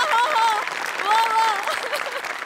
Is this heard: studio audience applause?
yes